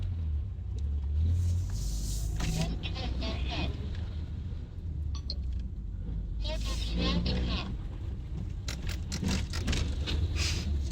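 Slow road traffic rumbles past in low, rolling swells, with engines surging now and then. People chat over the vehicle noise throughout.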